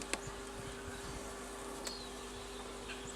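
Honeybees buzz in a soft, steady drone around an open hive during an inspection, faint and continuous with a few brief louder passes near the listener.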